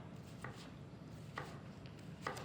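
A knife dices watermelon on a cutting board, giving three soft, evenly spaced chops, quiet and close against low background hiss.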